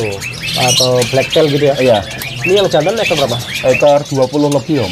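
Birds squawking and calling in a cage at a bird market, loud and persistent under close conversation between a buyer and seller.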